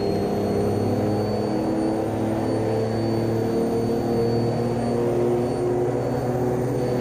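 A Porsche 935/78 turbo race car drones steadily in AMS2, its engine holding a dense, continuous layered whine and roar that keeps pulling without a break, loud and close.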